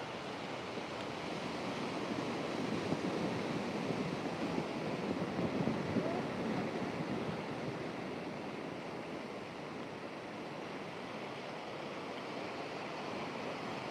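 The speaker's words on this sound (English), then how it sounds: "you can see the aftermath of the waves over here" Ocean waves break and wash ashore in a continuous roaring surf, swelling louder midway and then settling into a steady rush, with no voices.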